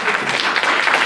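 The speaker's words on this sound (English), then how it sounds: "I would like to acknowledge with a big round of applause" Applause from a lecture audience at an art talk, a brief dense burst of many hands clapping, steady and fairly loud throughout.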